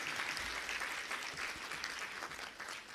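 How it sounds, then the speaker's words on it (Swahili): An audience applauds the President of Tanzania at a Dodoma ceremony receiving EU budget support funds, a dense, sustained clapping from a large crowd that carries on evenly throughout. "Basi tena kwa niaba ya Watanzania wote tumpe makofi mengi Mheshimiwa Rais."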